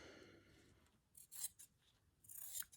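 Scissors snip through quilting fabric to trim an appliqué flower for a slow-stitched quilt block, a few close, crisp cutting strokes in two short bursts after a quiet start.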